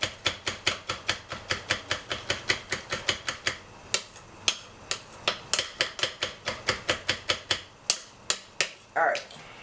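Knife mincing food on a cutting board for chicken tetrazzini, a long run of quick, sharp chopping taps at a steady, slightly uneven rhythm, close and fairly quiet, with no voices.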